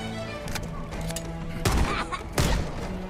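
Pistol shots from Halo: Campaign Evolved, three distinct blasts spaced out over a low game hum, the last two heavier and louder, with no voices over them.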